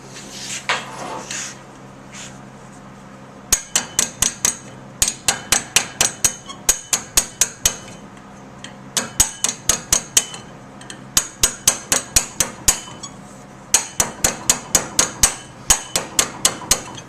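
Bursts of sharp metallic hammer blows on half-inch copper tubing, struck by hand, come in quick rhythmic groups of about six to eight strikes, separated by brief pauses. The strikes are close and loud.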